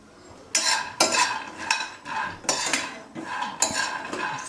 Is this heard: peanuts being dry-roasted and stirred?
yes